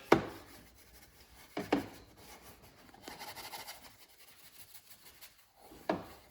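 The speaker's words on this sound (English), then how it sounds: "You can go over it again with the soft bristle." A soft-bristle brush scrubs car interior fabric in a few short, scratchy rubbing strokes, close but quiet, with pauses between bursts.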